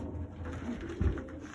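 Pigeons in a pigeon loft give a low, soft coo that swells briefly once, fairly faint against a steady airy background with no voices.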